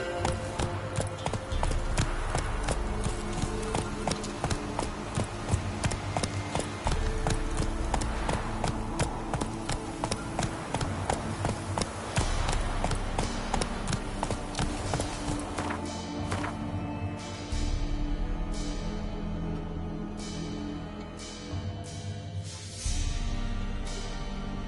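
The horse Roach galloping in The Witcher 3 on PS5: fast, rhythmic hoofbeats pound steadily over game music and ambience, slowing and thinning toward the end.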